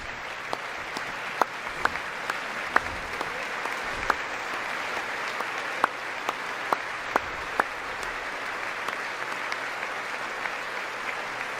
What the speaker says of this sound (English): It's probably both sides clapping